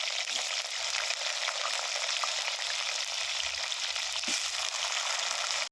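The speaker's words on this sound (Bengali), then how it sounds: "এই যে ফুলকপিটা আমার লাল লাল করে ভাজা হয়ে গেছে" Cauliflower pieces frying in hot oil, a steady close sizzle with faint crackles and occasional stirring clinks, no voices.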